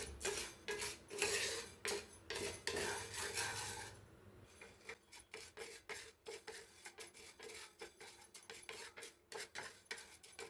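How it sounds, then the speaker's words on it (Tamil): Lentils for sambar powder being dry-roasted and stirred in a pan, giving rapid scraping and rattling strokes, louder at first and then lighter and choppier, close by with no talking. "இந்த பருப்புக்கே உண்டான ஒரு வாசனை வரும் பார்த்திங்களா, அந்தளவுக்கு வறுத்து எடுத்துக்கலாம்"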